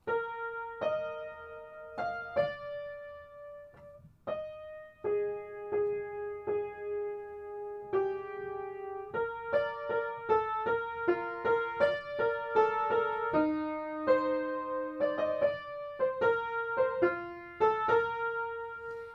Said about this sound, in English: And then the singing part, I'll just play that on the piano, sounds like this.